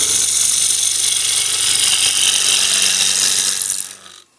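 A wood lathe turns a walnut bowl blank while a gouge cuts it steadily, a loud, even, rough shearing hiss that runs unbroken before the cut stops and the sound drops away abruptly near the end.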